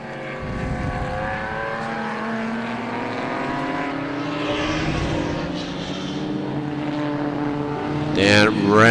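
Group S open-top Datsun sports race cars pass at speed on a circuit, engines droning with rising and falling pitch as they go by, with a sharp nearby pass at the end under continuous commentary.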